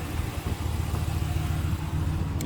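A 2022 Ram 1500 Classic Warlock 4WD with a 5.7L HEMI V8 runs steadily at a low, even rumble, close and continuous, with no talk over it.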